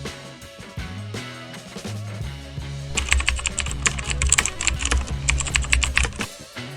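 Typing on a computer keyboard to enter a search into a web browser, with a fast run of clicking keystrokes over background music, getting busier in the second half.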